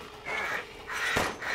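A few harsh crow caws in the video game Resident Evil Village, two or three rasping calls in quick succession, fairly close against a quiet background.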